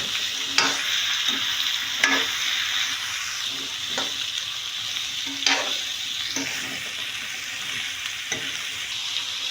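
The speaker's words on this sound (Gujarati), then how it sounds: "રાઈ તતળી જાય એટલે આપણે તેમાં ગાજર નાખીશું। પછી આપણે તેને હલાવી લઈશું।" Grated carrots hit mustard seeds spluttering in hot oil and are stirred, giving a steady sizzle broken by repeated sharp scrapes of a spoon against the pan, close up and with no talking.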